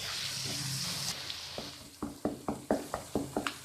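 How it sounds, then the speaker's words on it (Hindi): Khoya frying in a pan for date halwa, with a steady sizzle followed by a run of rhythmic stirring scrapes and clatters that grow louder near the end. "खोया हमारा फ्राई हो रहा है"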